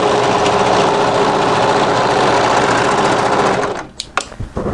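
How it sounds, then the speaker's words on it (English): Overlocker stitching off the end of a fabric cardigan tie, a loud steady high-speed mechanical whir running continuously, then cutting out abruptly, followed by a few sharp clicks and taps of the machine. "you can either overlock straight off the end and cut, leaving a tail"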